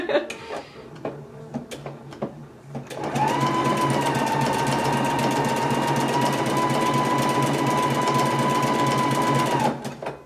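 A Husqvarna Viking Epic 980Q sewing machine stitches a buttonhole with stitch 32, humming loudly and evenly for about seven seconds after some brief clicks and handling noises.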